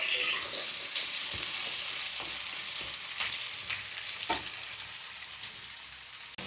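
Potatoes fry in mustard oil for a light Bengali rohu fish curry, giving a steady close sizzle with occasional stirring clicks and scrapes, and no voices.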